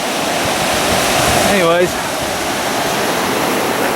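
A wide waterfall on a river roars as a loud, constant rushing wash of water, with someone speaking briefly over it midway.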